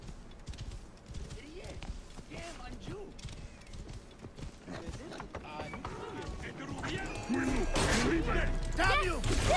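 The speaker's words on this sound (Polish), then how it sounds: "Tu jedzie konno" Horse hooves clop in a rough rhythm amid creaks and mechanical clatter in Assassin's Creed: Origins, with a voice talking over the busy, layered game scene.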